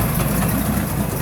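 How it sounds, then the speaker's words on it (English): A 1968 Ford Boyertown van engine runs in first gear with the drive shaft turning, giving a close, steady, continuous rumble with no talking. "got a running engine, turning drive shaft,"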